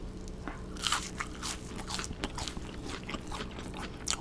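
Crunchy bites into fried onion pieces during a mukbang of spicy snail noodles and fried chicken, a close series of crisp crackling crunches and chewing with no talk.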